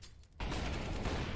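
Grenades going off in a professional CS:GO match at ESL Pro League, a sudden loud burst that settles into a sustained roaring, crackling blast filling the rest of the moment.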